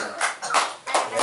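A classroom of students claps for a classmate named Kelvin, a short burst of several claps in uneven clusters, moderately close, with faint voices mixed in.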